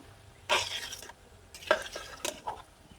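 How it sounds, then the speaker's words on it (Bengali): Cooked semolina dough is stirred in a pot, giving a few distinct scraping and clinking strokes of the spoon against the pot, spaced about a second apart, over a quiet background. "অনবরত কিন্তু এইভাবে নাড়তে থাকতে হবে"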